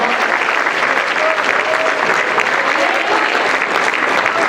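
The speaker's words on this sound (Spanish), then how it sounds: "Denle un aplauso si desea." A church congregation applauds steadily throughout, dense and sustained clapping from a large group, with no voices rising above it.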